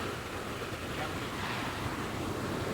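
Hurricane Katrina wind and surf pound the Dania Beach fishing pier in Florida, a steady, dense roar of gusting wind and crashing water that holds at an even loudness throughout, with no voices.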